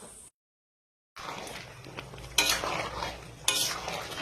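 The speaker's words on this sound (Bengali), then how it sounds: "মাংসটা সুন্দর করে কষিয়ে নিচ্ছি।" Mutton for biryani is stirred and fried in a wide pan, with a brisk scraping, sizzling texture and a few louder spoon strokes after a short silent break near the start.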